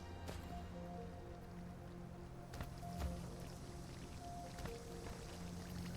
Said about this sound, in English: listen to all the fizzing noises